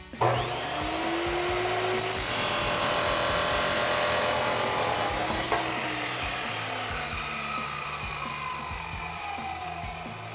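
Power saw cutting through a clamped steel exhaust pipe for a Ford F-250: a loud, sustained grinding whine that rises as the blade bites, then tapers with a rasping, scraping tone.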